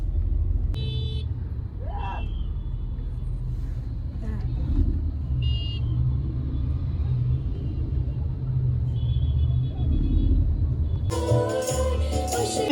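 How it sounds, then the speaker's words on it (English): Busy road traffic rumbles steadily around a moving vehicle, with low engine drone throughout, a few short horn toots, and a person talking near the end. "And lots of traffic is there all around"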